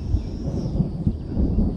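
Deep, rolling thunder from an approaching storm rumbles steadily over an open flying field, a low continuous roar with a few stronger swells and no voices.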